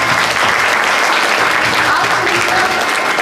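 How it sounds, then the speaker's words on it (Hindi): Loud, steady applause from a seated audience at an honour ceremony at a spiritual centre, continuous clapping filling the whole short stretch without a break. "जोरदार तालियां इनके सम्मान में।"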